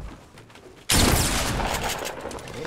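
Gunfire in the Fortnite video game erupts abruptly after a quiet start, a loud burst of rapid shots that keeps rattling and slowly tapers, with no talk over it.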